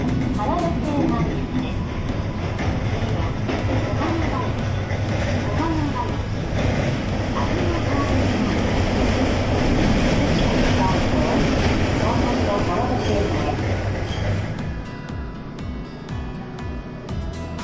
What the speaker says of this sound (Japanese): このリニアモーター特有のうーという音なんですけど、ちょうど素晴らしいです